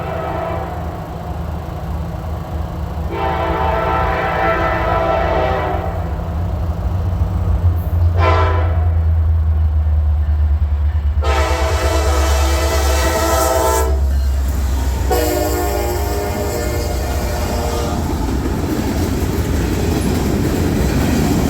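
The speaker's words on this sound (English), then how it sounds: "our first train was NS 16R with a special guest, ES 44AH 703" A Norfolk Southern freight train led by ES44AH locomotive 703 rumbles past close by for a long stretch, with several loud horn blasts, steady wheel clatter and some metallic squealing.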